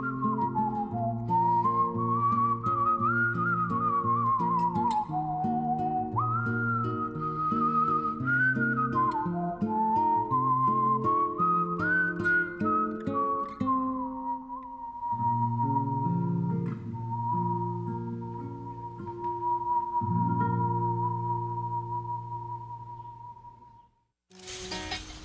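A man whistles a melodic tune alone, close and steady, with sliding and held notes over an accompanying instrumental backing throughout, fading briefly near the end.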